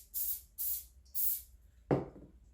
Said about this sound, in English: I'm going to use my cooking spray